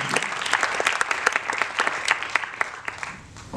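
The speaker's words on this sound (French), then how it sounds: "je vous demande de l'applaudir chaleureusement pour le remercier de son passage parmi" A university audience claps warmly for a guest speaker at a talk on medicinal plants, dense sustained applause of many hands at an even level.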